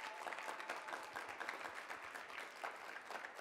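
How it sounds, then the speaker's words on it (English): An audience applauds at a high school college signing ceremony, steady clapping from a roomful of people held at an even level throughout, with no voices over it. "So a big round of applause for Alexis."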